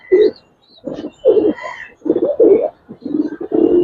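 Giribaz pigeons coo in a loft, close and clear, a string of throaty, rolling coos in short bursts separated by brief pauses, with no talking.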